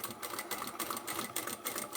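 A sewing machine runs steadily, stitching a large drawstring laundry bag with brief pauses for backstitching, a close, continuous mechanical whir with no talking.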